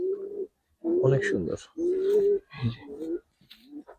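Giribaz pigeons coo close by in several low, rolling phrases separated by short pauses, and a voice speaks briefly among them.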